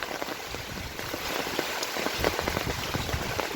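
Long-awaited rain pouring down, a close, dense patter of drops striking surfaces, steady and slightly building in intensity.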